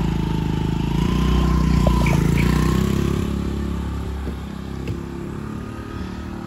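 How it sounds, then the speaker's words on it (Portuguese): A motorcycle runs along a smooth street with a steady engine drone that swells, then eases off and recedes, with small clatters and scrapes near the end. "A moto já tá ali, já dá pra ver a moto,"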